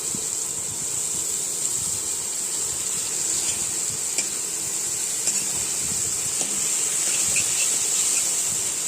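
Onion with salt stirred in hot oil in a pan, a constant hissing sizzle with occasional soft scrapes and clicks of a spoon, close and steady with no talking.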